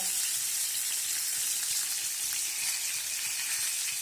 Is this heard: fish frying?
yes